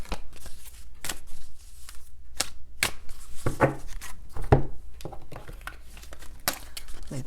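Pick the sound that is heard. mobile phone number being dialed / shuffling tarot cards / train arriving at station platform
shuffling tarot cards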